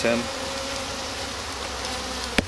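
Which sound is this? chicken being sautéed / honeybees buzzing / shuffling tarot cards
honeybees buzzing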